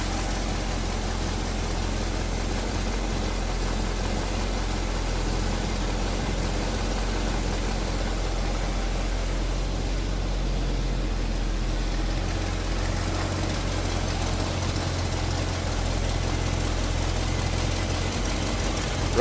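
A 1968 Chevrolet Corvette coupe with HEI ignition idles steadily and evenly, a low rumbling engine close by and alone, with no talk over it.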